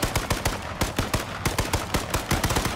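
Rapid bursts of automatic gunfire in the survival video game Miscreated, about twenty close, loud shots in an uneven rapid rhythm with no talking over them.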